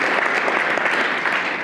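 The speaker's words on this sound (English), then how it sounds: "We'll take applause and then questions." Steady, dense applause from a conference audience after a security talk on ransomware, close and continuous throughout with no pause.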